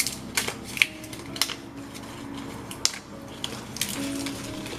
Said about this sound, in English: So I'm going to cut it quite short.